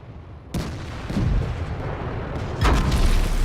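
Heavy tank cannon shots from a World of Tanks match on a Centurion 7/1, two booming blasts about two seconds apart, loud and close, over a steady low rumble of battlefield noise.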